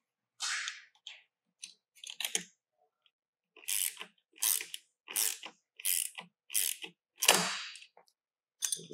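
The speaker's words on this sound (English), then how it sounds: "you can just crank the wrench that's on the outside or the socket wrench that you have" A socket wrench ratchets a nut while a Gratz reformer's main wheels are serviced, making close, crisp clicking bursts in short separate strokes, about ten in all with brief silences between.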